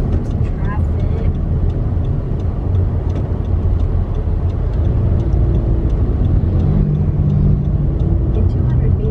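Steady low road-traffic rumble heard from inside a moving car, continuous and fairly loud throughout, with family voices chatting over it.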